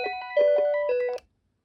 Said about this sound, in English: I'll set it to the other ringtone